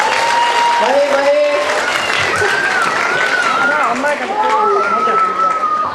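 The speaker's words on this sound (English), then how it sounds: "Please let's give her a Big round of applause, guys." Audience clapping and cheering after a solo song performance at a cultural event, continuous applause under an excited host's voice speaking over it with loud whoops from the crowd.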